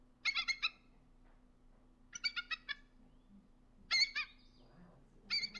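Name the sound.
bald eagle call played as a recording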